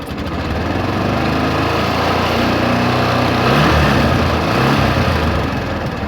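Kawasaki Barako 175 motorcycle engine revving after a repair with a new regulator, a loud, close, steady single-cylinder drone that swells and eases slightly, running smoothly without sputtering.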